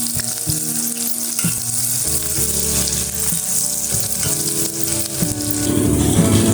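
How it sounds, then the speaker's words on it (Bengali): Sliced onions fry in hot oil in a pan, a loud, continuous sizzle with crackling bursts and occasional stirring scrapes, growing slightly stronger toward the end. "পেঁয়াজটা আমি ভেজে নেব"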